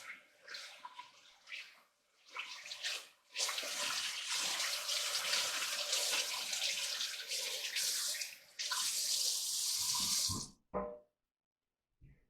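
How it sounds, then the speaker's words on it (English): Hands washed under a running kitchen tap, water pouring steadily and loudly for several seconds with brief splashy breaks, then the flow shuts off abruptly. "Wash my hands"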